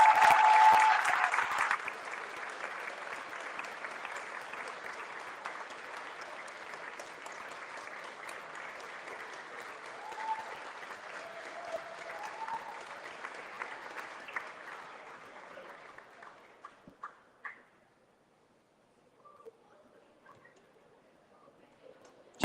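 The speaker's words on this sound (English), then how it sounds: "you definitely got the loudest cheer of the night" A crowd at the Berkshire Football Awards 2022 applauds and cheers an award winner with loud, sustained clapping that holds for about fifteen seconds, then thins out and fades into near silence.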